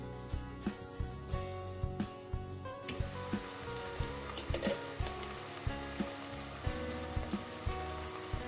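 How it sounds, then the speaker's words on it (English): Steady crackling sizzle of efo riro sauce frying in oil in a pot, with a regular soft ticking pattern running through the continuous spitting. "Here it has been frying for 10 minutes."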